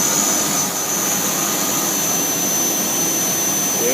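A CNC machine runs loudly and continuously, a dense, roaring whine with a thin high-pitched tone riding on top, steady and close throughout with no pauses.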